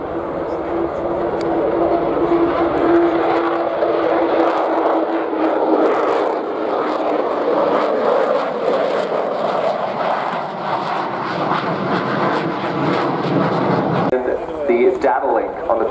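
A military jet roars past at the RIAT air show, a loud, sustained engine rumble and whine that swells and slowly shifts in pitch for about fifteen seconds, while a commentator talks over it.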